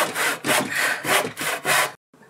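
Hand saw cutting a wooden board, about six even back-and-forth strokes close up with a rasping, rhythmic sound, then a sudden stop and a brief faint tail.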